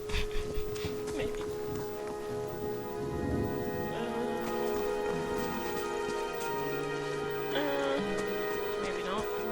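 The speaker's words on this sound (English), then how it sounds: "And it's raining." Steady rainfall patters in the fantasy role-playing game Pillars of Eternity, a soft continuous hiss beneath layered tonal game music and ambient town sounds.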